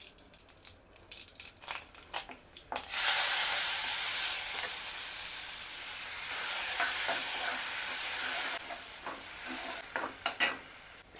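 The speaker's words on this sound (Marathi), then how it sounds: "आता मी वरण एकीकडे फोडणीला घालते." Dal (varan) poured into hot oil tempering, a sudden loud burst of sizzling that holds steady for several seconds then drops, with stirring and clinks before and after.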